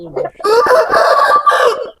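A large rooster, said to weigh over four kilos, crows loudly and close in one long drawn-out call, preceded by a brief low cluck.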